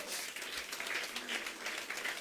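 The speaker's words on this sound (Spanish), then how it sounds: "Dale un aplauso fuerte al Señor" Steady, loud applause from a church congregation at a Spanish-language sermon, many hands clapping at once in a thick, continuous roar that runs the whole stretch with no distinct talk.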